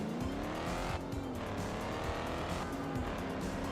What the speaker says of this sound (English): Honestly, this sounds pretty nice for a Jaguar V8.